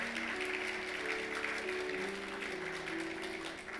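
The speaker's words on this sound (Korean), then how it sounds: "우리 박수로 환영해 주시기 바랍니다" Steady applause from a church congregation during a Sunday service, sustained clapping throughout with soft music playing underneath.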